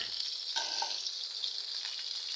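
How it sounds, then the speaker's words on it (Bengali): Cauliflower frying in a pan, a soft continuous hiss of oil with a few brief crackles, fairly quiet and with no voices. "এদিকে মাছে দেওয়ার জন্য যে ফুলকপিটা, এটা ভেজে নিব।"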